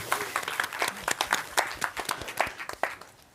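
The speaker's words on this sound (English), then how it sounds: "I'm giving him a round of applause." Audience at a game audio conference in Oslo claps, a moderate scatter of individual hand claps forming brief applause in a room, fairly close and uneven.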